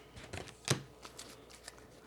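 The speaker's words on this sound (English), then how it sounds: "this is the last shuffle with this deck here" A deck of tarot cards being shuffled by hand, with a few soft riffling flutters and one sharp snap near the start, close and quiet with no talking.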